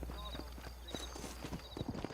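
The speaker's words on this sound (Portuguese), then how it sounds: "Chamaram o seu cavalo." A horse in the video game Red Dead Redemption, called by its rider, approaches with rhythmic clip-clopping hoofbeats and a short whinny. Steady game ambience sits underneath, and a voice talks over it.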